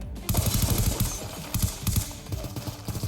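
Rapid bursts of automatic gunfire from Call of Duty Black Ops 2, loud and close, running almost continuously with brief gaps between volleys.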